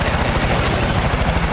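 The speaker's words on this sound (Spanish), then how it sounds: "Ya no te oigo nada, hay un helicóptero." Helicopter in the video game Far Cry New Dawn, a steady loud rotor thump chopping continuously throughout, with a dense rumbling wash and faint gunfire-like crackle mixed in.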